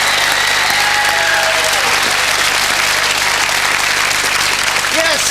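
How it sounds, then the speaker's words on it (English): Sustained applause from a television game show studio audience, thick and even from start to finish, with a brief voice rising near the end. "Chris, Steve and Tim, give them all a round of applause."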